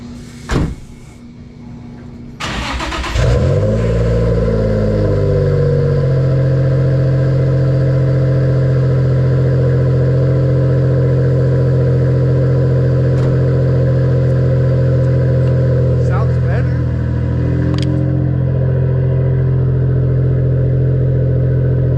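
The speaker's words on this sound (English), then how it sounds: "Let's lower the car and start it up." Infiniti G35 cold start: a short crank, then the engine catches with a loud flare of revs that settles into a steady, strong idle with harmonic drone, running alone with a few faint clicks.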